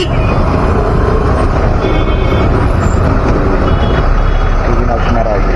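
Heavy city road traffic near Ghatkesar, Hyderabad, with trucks and buses: a loud, unbroken roar of engines and tyres, with brief hissing bursts like air brakes.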